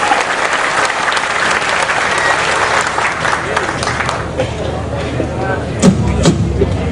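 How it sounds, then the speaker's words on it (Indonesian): A large gathering applauds in a loud, sustained wave of clapping with crowd voices mixed in, thinning toward the end where a couple of distinct thumps stand out. "Tepuk tangan semua untuk Indonesia."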